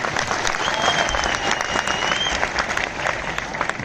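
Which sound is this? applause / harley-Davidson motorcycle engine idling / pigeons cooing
applause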